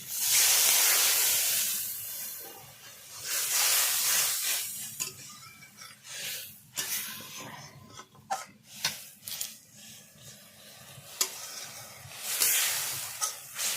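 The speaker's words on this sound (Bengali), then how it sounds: "এরপরে আমি জল দিয়ে দিচ্ছি" Water is poured into ground spice paste frying in a pan for a river rui fish curry, giving a loud hissing sizzle that settles into a steady simmering crackle with scattered spoon clinks and stirring knocks.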